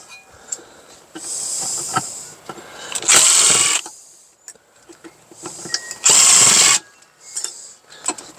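A power drill whirring in two loud short bursts as it backs out stubborn Phillips screws while scrapping old equipment, surrounded by softer clicks, rattles and handling sounds, with no voice.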